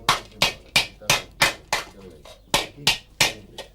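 A blacksmith strikes hot metal on an anvil with a ball-peen hammer during traditional forging, about a dozen sharp ringing blows in a steady rhythm, loud and close, with a short pause midway.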